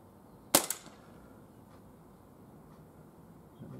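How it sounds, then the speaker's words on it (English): A Umarex Walther PPQ M2 CO2 air pistol with a chain magazine fires a single close, sharp crack with a quick rattling tail, then faint ambient hiss. "That's the first shot from my fresh CO2"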